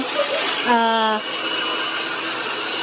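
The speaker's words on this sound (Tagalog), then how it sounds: "Ngayon ay nag-uumpisa siya sa pagbo-blower." Handheld hair dryer blowing steadily while a beginner blow-dries hair during salon training, a constant close airflow roar throughout, with a brief voice heard over it.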